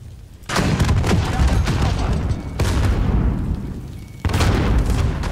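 Warzone Gulag firefight: three heavy booming RPG rocket blasts land in quick succession, each a sudden loud bang trailing into rumbling debris and scattered gunfire, close and dense.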